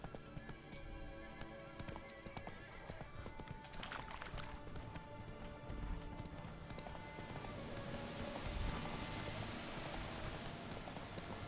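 Steady clip-clop of horse hooves during riding in Witcher 3, a continuous galloping rhythm under a rain-like hiss, with a horse whinny mixed in and no talk.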